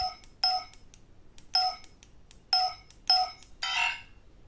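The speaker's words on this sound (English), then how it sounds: "Now it gives you a sound to tell you you're actually into the volume menu." An ACLightsabers Obi-Wan lightsaber gives electronic volume-menu beep tones: four short, bright two-part beeps at an even pace, then a longer, noisier tone at the end, all clear and close with no talking.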